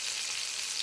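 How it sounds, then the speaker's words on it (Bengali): Chicken frying in hot oil, a steady, bright, hissing sizzle that stays even and close for a brief moment with no voices. "গাইস, চিকেন গুলো ভাজতে গিয়ে মনে হচ্ছে আমি মহাযুদ্ধে অংশ নিয়েছি।"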